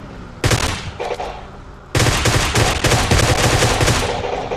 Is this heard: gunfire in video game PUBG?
yes